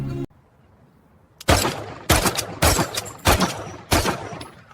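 Rifle shots from an SKS at a shooting range: five loud, sharp reports fired singly at a steady, slightly uneven pace after a quiet pause, each with a short ringing tail.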